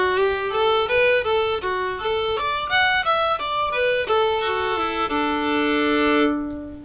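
A solo fiddle plays the B part variation of the fiddle tune The Eighth of January, a lively run of bowed notes and double stops at close range, ending on a sustained note that fades out.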